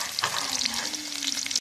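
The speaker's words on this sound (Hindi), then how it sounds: "ये देखिए प्याज हमने जो काटा हुआ था वो फ्राई कर" Chopped onions fry in a pan as a tempering for a whole masoor lentil dish, giving a steady, crackling sizzle with bursts of stirring, close and continuous.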